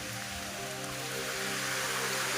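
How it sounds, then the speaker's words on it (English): Rain starting to fall over a backyard golf course, a steady soft wash of drops pattering on surfaces, constant and fairly quiet throughout with a faint low hum underneath. "Yes, it's starting to rain now. That's our rain."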